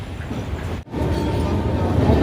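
Steady low rumble and rattle of the moving Radhikapur Express passenger train heard from inside a carriage, with a brief cut near the start.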